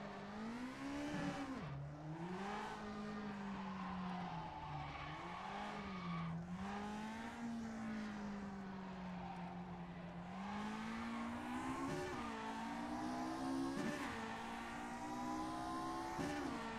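Open-wheel race car in rFactor 2 at Monte Carlo, engine droning steadily with pitch rising and dipping through gear changes and braking into Mirabeau, a continuous close engine tone with no talk.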